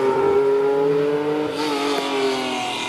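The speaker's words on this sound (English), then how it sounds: "So we've got the Clarion Subaru Legacy on the line, the yellow one." Clarion yellow Subaru Legacy rally car with a flat-six engine on a night hillclimb, a sustained throaty engine drone holding steady then shifting pitch as it pulls away, fairly loud with no talk.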